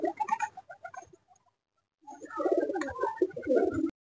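Pigeons coo in low, throaty bursts as they fly and land, a short series, then a pause, then a denser round of cooing and rustling, close by.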